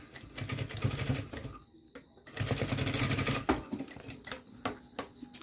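A sewing machine stitches fabric for a school pencil case with its presser foot down, running in rapid close bursts with a short pause in between and a faint voice in the background.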